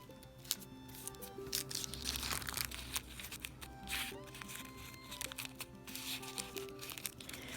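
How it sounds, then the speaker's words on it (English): Collage paper is accordion-folded for a paper doll dress, giving a steady run of close crinkling, creasing and rustling with sharp crisp snaps, and no talk over it. "we're going to accordion fold this"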